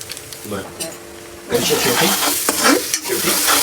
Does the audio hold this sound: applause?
no